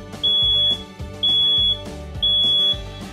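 A smoke alarm under test gives three loud, evenly spaced high-pitched beeps, each about half a second long, close and alone without voices.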